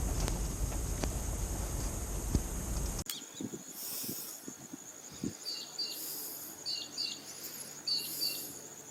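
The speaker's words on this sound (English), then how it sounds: "Striated pardalots, I think." Striated pardalots call at a coastal reserve as short, repeated high chirps over soft insect buzz. Rustling and handling noise fill the opening seconds.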